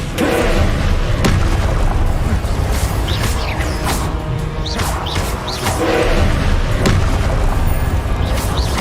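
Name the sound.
spell casting blasts in Hogwarts Legacy video game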